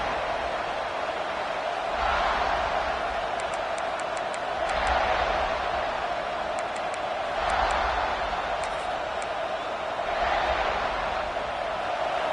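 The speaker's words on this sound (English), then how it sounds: "This crowd, full throat, splitting the eardrums and letting them know it's going to be a long day" A stadium crowd roars at a college football game in a steady, loud, broad wash of noise that swells in periodic surges, with no clear talk over it.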